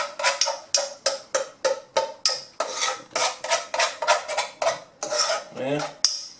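A melted, runny mixture stirred steadily in a pan, with rapid, rhythmic metallic scrapes of a utensil against the pan that repeat evenly, close and fairly loud, with no voices.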